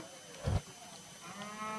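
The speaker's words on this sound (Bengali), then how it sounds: "এখানে এক গরু আছে হ্যাঁ, সামনে" A single short, close moo from a bull at a cattle market where bulls suited for farms are sold, rising briefly over a quiet background with no talking.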